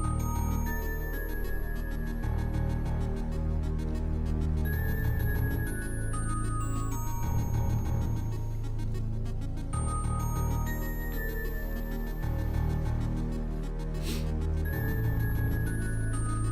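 Stage music from the Mega Man Zero video game, a dense, loud electronic track with driving bass and bright synth melody lines playing continuously.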